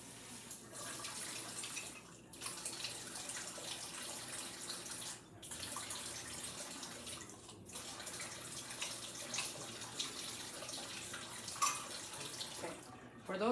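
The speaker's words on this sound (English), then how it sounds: "I'm gonna add some water to this" Water is added to a hot pan on the stove while cooking with cornstarch. It makes a continuous, fairly soft running and splashing sound with a few short breaks, and there is no clear speech over it.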